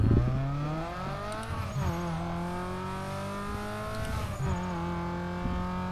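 A car engine in a drifting video game revs hard and continuously, its pitch climbing and dropping in repeated surges with brief shifts, loud and close throughout with no talking.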